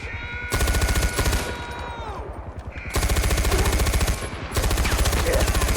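Gunfire in the video game Far Cry 4: loud, rapid automatic bursts in two long stretches, separated by a short pause with lighter shots and game sounds.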